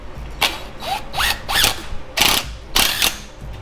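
A hand ratchet runs a bolt in, sounding as five quick, close bursts of rapid clicking at a steady rhythm, with metallic ringing between strokes.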